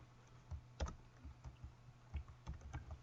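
Soft keystrokes on a computer keyboard, irregular clicks and taps over a few seconds, quiet and close over a low steady hum.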